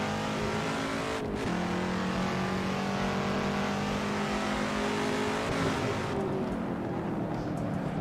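A V8 race car in the Assetto Corsa racing game, its engine droning steadily and loudly throughout, revving and pitching up under acceleration with a brief dip before climbing again.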